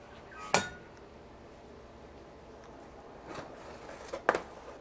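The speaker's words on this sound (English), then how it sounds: "Now what we want to do is go ahead and flip the tray around." Metal tray inside a Kalorik Maxx oven being handled and flipped around, three sharp clanks and clinks spaced out over a few seconds with quiet in between.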